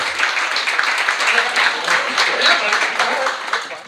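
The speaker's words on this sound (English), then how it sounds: "Y'all give him a round of applause." A live audience gives a round of applause at an awards event, dense and steady clapping for several seconds at close range with no voices over it.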